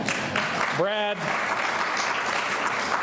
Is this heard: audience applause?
yes